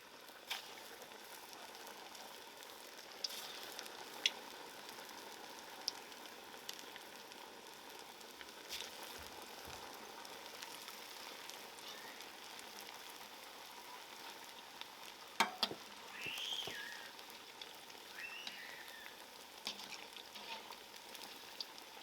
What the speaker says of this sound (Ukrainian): обсмажую в олії до повної готовності